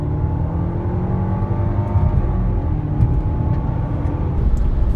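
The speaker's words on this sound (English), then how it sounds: "Let me cut to a clip right now of the acceleration run" Engine of a 2015 Audi A4 pulling through an acceleration run, a steady droning rumble with a gradually rising tone, heard from inside the car with no talking.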